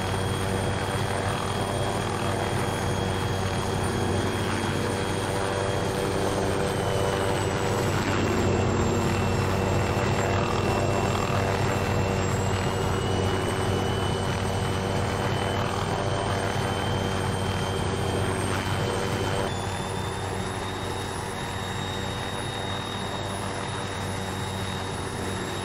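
An aircraft in the video game Arma 3 drones steadily with a constant engine and rotor roar and sustained high whining tones that shift slightly in pitch, loud and unbroken throughout with no talking.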